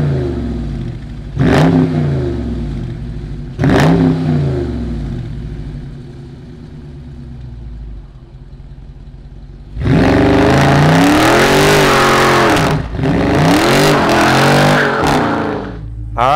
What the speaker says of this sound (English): let's go ahead and fire it up and see what it sounds like